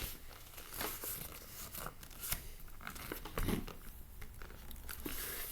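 Paper being creased and folded into a paper airplane, close crinkling and sharp crisp rustles at an irregular pace, faint and alone with no voices.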